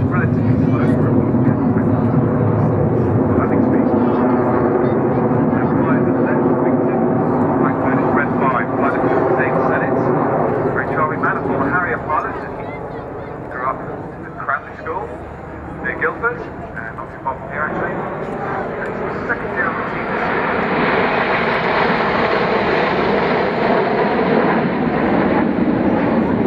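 Red Arrows BAe Hawk jets roar overhead at the Farnborough Airshow, a loud, sustained engine drone that shifts in pitch as they pass, with a voice talking over it.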